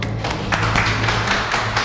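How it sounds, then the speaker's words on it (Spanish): Steady audience applause fills a hall as a doctor is welcomed to the stage at the close of a political training day, dense even clapping continuing throughout without a break. "Recibimos al doctor Álvaro López Cazorla con un fuerte aplauso"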